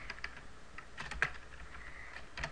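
Quick, close keystrokes clatter on a computer keyboard as C++ code is typed, a short burst of irregular taps with one sharper click in the middle.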